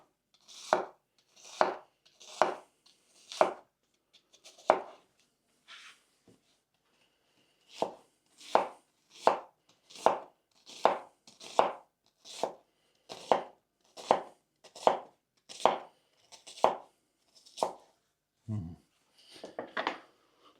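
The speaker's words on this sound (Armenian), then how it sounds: "Սոխը կտրատելուց հետո պետք է որ այս ձևի մանրացվի։" A knife chops onion on a board for a lenten bean salad: brisk, evenly spaced thuds in two runs split by a short pause, close and clear with no talk.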